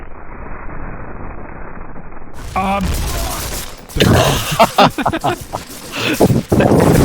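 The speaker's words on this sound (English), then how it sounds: "You throwing grenades? That's a great idea." Grenade blasts and bursts of gunfire from the WWII shooter Medal of Honor: Rising Sun on PS2, starting after a stretch of low rumble and growing into loud, layered explosions and rattling shots.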